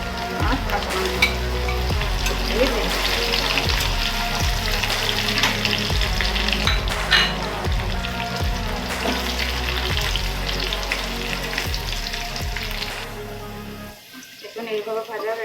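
Ginger and green chillies with whole fennel sizzle in hot oil for a vegetarian paneer dish, a continuous loud crackling fry with rhythmic spatula scrapes, cutting off abruptly near the end, with a voice talking over it.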